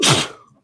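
A single sharp sneeze bursts out close and loud, then trails off quickly into quiet within a fraction of a second, caught during a casual podcast conversation.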